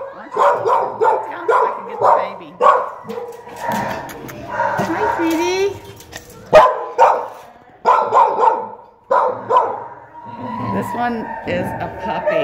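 Six-month-old puppy barking in repeated bursts of sharp, close barks and yips, separated by short pauses, with a person talking in between.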